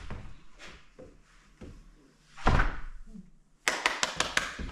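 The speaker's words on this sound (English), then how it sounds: "And this door automatically closes itself." A spring-loaded door in an Alaska homestead house, leading from the basement to the garage, swings shut by itself: soft creaks and a dull thud, then a sharp latching slam followed by a rapid rattle of several clacks.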